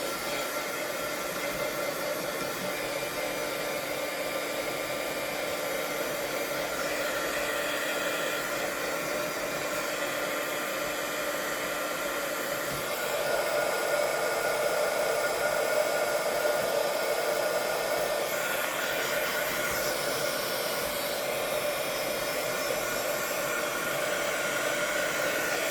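A hair dryer blows on mixed media collage paint, giving a steady, loud, close whoosh of airflow that runs unbroken throughout with a constant motor hum.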